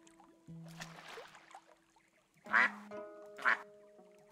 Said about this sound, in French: Voilà, des canards.